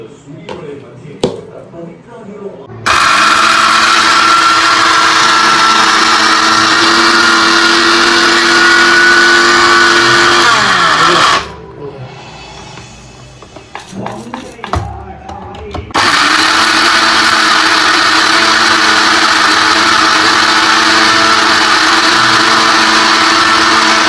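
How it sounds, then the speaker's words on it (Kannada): An electric mixer grinder grinds cooled roasted spices into puliyogare powder, a loud steady whirring drone in two long bursts separated by a brief pause. "ಸೊ ಈಗ ಕೂಲ್ ಆದಮೇಲೆ ಈಗ ಗ್ರೈಂಡ್ ಮಾಡ್ಕೊಳ್ಳೋಣ"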